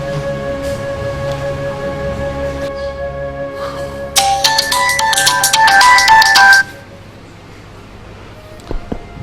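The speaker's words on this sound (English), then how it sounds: "you left your phone in the other sitting room and it rang" A mobile phone rings in a sitting room, a bright electronic ringtone melody that plays loudly for a couple of seconds and then stops, leaving a low hum and faint background sounds.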